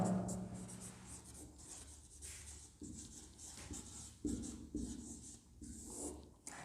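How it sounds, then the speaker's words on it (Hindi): Writing on the board during a Hindi-medium English grammar class, a series of close, uneven scratchy strokes and taps in short bursts with brief pauses between, no speech. "लिख लेते हैं यहाँ पर।"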